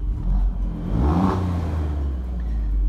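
An Alfa Romeo Giulia Quadrifoglio with a modified exhaust revs up, a deep rumbling engine swelling in a single rising burst before settling back to a steady low growl, close and fairly loud.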